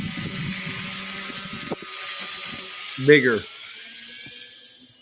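A radio-controlled model aircraft engine throttles up just after touching down on grass with no runway, crabbing in a south wind. A buzzing engine whine rises briefly and sharply near the end over faint background noise, and someone speaks.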